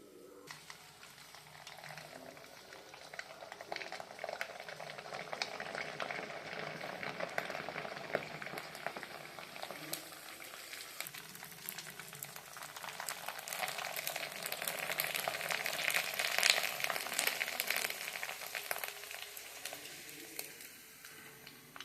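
Sago and potato papad frying in hot oil in a home kitchen, giving a steady, dense sizzle and bubbling crackle that swells slightly louder toward the end, heard alone without talk.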